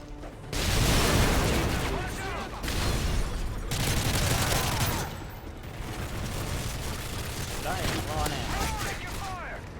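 Call of Duty: Modern Warfare 3 survival-wave firefight with bursts of rifle gunfire and booming explosions, loud and dense in several long volleys, while voices talk over the shooting.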